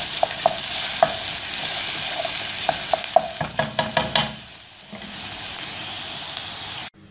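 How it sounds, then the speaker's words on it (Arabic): Onion and garlic fry in a pot with a steady bright sizzle, joined midway by a quick run of spoon clicks and scrapes, then the hiss settles before cutting off abruptly at the end. "حطيت البصل والثوم، استنى عليهم شوية بس يتحمصوا"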